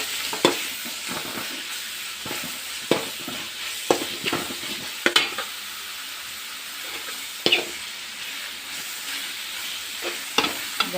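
Grated raw mango sizzles in a pan while a spoon stirs it, giving a steady frying hiss broken by sharp scrapes and clinks at irregular intervals, close and alone.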